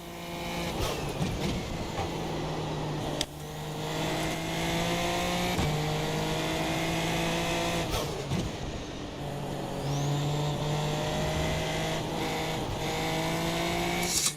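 A Super Formula Lights race car in iRacing at Watkins Glen, its engine screaming through rising revs with quick upshifts, each gear change dropping the pitch before climbing again, loud and continuous.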